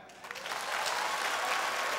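A comedy club audience breaks into brief, close applause, with many hands clapping that build quickly and stay steady for a couple of seconds.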